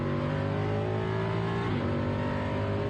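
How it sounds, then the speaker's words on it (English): Onboard engine note from Danny Sufi's Conrad Motorsport GT car lapping the Autodromo Internacional do Algarve at Portimao, a loud continuous high-revving drone with a gear change shift partway through, no voices over it. "This is a view on board with the Conrad Motorsport car of Danny Sufi."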